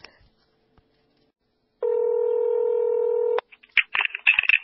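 Telephone call being placed, with a steady dial tone holding for about a second and a half, then cut off and followed by a quick burst of short, bright keypad dialing tones.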